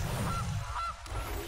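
A goose honks as a sound effect in the Magic: The Gathering Arena video game, two short nasal honks in quick succession over a steady game background.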